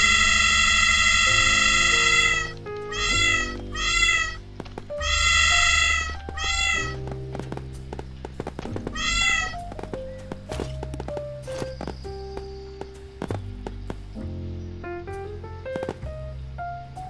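Cartoonish cat meows in the Fireworks Mania video game as cats rain down, repeated stacked meows in bursts over game effects, footsteps and music-like tones.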